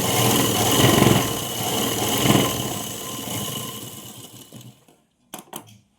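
A sewing machine stitching an umbrella frock, running in a close, continuous whirring burst that slows and stops, followed by a couple of short clicks from the machine.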